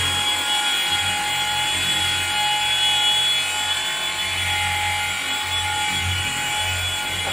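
A polishing machine spreads paste wax across a car panel, giving a continuous, fairly loud whirring drone with a faint rubbing texture and no talk.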